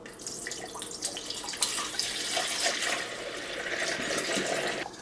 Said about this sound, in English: I'm going to go ahead and add in some water.